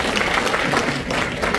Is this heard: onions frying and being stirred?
no